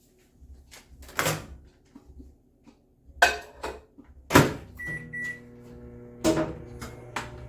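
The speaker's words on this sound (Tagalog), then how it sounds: "microwave now. Few minutes." A microwave oven is put to use: close clunks and knocks of its door and dishes, a short electronic beep, and a low intermittent hum between the knocks, with no speech.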